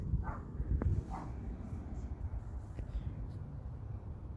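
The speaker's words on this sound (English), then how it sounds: "A loud barking dog." A dog barks a couple of times in the distance, sharp yelps over a steady low rumble of outdoor background noise at Liverpool South Parkway railway station.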